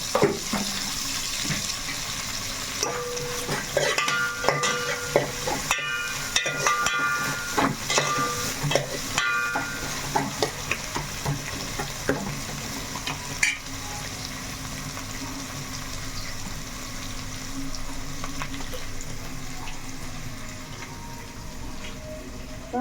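Chicken pieces frying and being stirred in a pan for chicken curry, a continuous sizzle with irregular scraping and clattering stirs, loudest early and then settling into steady frying.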